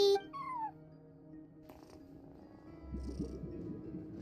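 A cat in Genshin Impact makes a brief chirping call, then a soft, low rumbling purr comes in near the end against a quiet backdrop.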